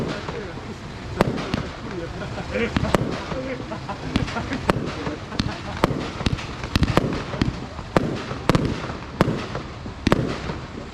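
Fireworks burst repeatedly at a 24-hour karting event, sharp pops and bangs scattered irregularly over a continuous crowd and background din, fairly loud and close.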